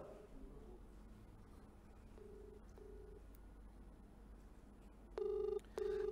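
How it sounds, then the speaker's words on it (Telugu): A live phone call rings out, the line quiet with faint background hiss before two short electronic ringback tones sound near the end, clear and steady. "నటి హేమ ఫోన్ రింగ్ అవుతుంది."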